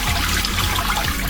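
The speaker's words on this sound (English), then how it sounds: "I'm first going to start by rinsing the rice that I had soaking" Soaked rice is rinsed under running water for arroz con leche, a loud close steady splashing and trickling rush with no pauses and no talk.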